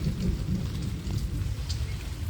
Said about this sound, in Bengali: জোর বৃষ্টি এসে গেল